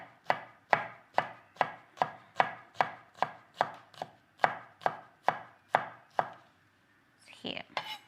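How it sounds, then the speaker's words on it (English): Garlic cloves are chopped with a knife on a board in a steady run of about fifteen sharp, evenly spaced chops, close and clear, followed by a brief scrape at the end. "So I'll just make it finer a bit. So just chop it up like this way."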